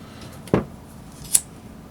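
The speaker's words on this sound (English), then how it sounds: "now I'm going to be very careful when I cut this" Scissors snip through paracord bracelet cord once, a short close crisp cut followed by a faint small click, otherwise quiet.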